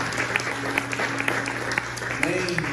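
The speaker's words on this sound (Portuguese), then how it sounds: "Pode dar uma salva de palmas ao nosso Deus." Steady, moderately loud applause from a church congregation, dense and continuous for the whole stretch, with a low constant hum underneath and a faint voice near the end.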